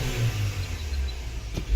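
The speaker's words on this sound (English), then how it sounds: "So now I think we need to do wide open throttle" A 2019 Cadillac XT4 engine revving at wide open throttle during a diagnostic test for reduced engine power, a short loud low roar that holds steady, with no voices.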